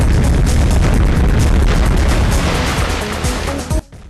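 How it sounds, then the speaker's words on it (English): Loud, dense rumbling blasts with debris crashing down into water after explosions in the video game Mass Destruction, continuous and harsh, cutting off sharply near the end. "you can hear the debris splashing down"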